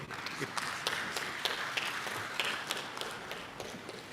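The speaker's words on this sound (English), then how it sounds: "Please let us stand as it's coming, and can we clap again?" Scattered audience clapping at a moderate distance, steady and fairly faint, with no talking over it.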